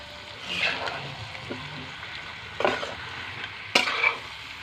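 Chicken coated in spices is stir-fried with fried potatoes in a pan, with a low sizzle and three distinct scraping stirs of the spatula against the pan.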